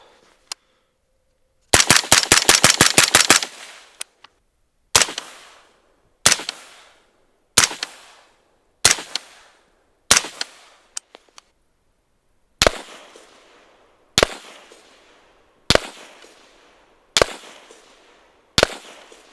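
A suppressed 5.56 rifle with a 10.3 inch barrel and a Surefire suppressor fires a rapid string of shots, then single sharp cracks at steady intervals, each loud and close with a short decaying echo.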